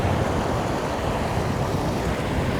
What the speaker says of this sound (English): All right, we got incoming surf.